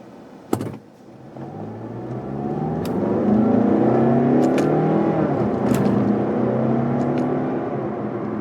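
A 2016 Mazda 6 Touring with a 6-speed automatic driven in manual mode, heard from inside the cabin: a sharp click, then the engine note rises steadily as the car accelerates and holds a droning hum, no talking.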